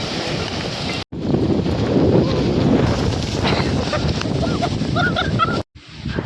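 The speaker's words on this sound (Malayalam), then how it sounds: "ഭയങ്കര കാറ്റ്" Strong wind on a hilltop buffets the microphone in a loud, steady roar that drops out briefly twice, with no talking heard.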